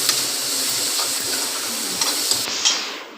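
Onion-tomato masala with chilli powder and garam masala sautéing in a pan for paneer gravy gives a steady close sizzle with faint stirring scrapes and a few soft clinks, no voices.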